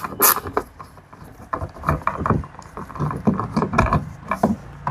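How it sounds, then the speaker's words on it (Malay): Screws being unscrewed from a speaker panel on a Honda City GM6, close-up with irregular clicks, ratcheting taps and scraping of tool on plastic over about five seconds. "So sekarang kita buka skru ni."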